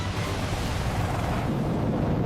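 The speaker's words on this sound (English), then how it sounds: "Hundreds of rockets rip through the air, leaving trails of white smoke" A PHL-03 rocket artillery barrage launches in a sustained, loud, continuous roar with a deep rumble and broad rushing hiss, steady throughout and with no voices.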